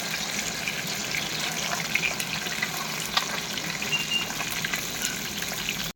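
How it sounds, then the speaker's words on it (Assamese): Fish frying in hot oil, a continuous dense sizzle with a watery, hissing texture, steady and close throughout with no talking. "এতিয়া মই মাছ ফ্ৰাই কৰি আছোঁ পূৰা গৰম তেলত নাফাঙাকৈ ধুনীয়াকৈ ভাজি আছোঁ মাছ"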